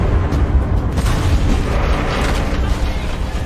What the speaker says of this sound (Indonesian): 2 mobil pasukan cepat tanggap yang terus melaju kembali terjebak dan meledak saat